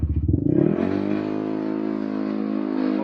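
Honda ADV 160 scooter fitted with an upgraded CVT, clutch and centre spring and a remapped stock ECU, revving up from idle pulses into a sustained loud, buzzing high-rev drone, close and alone.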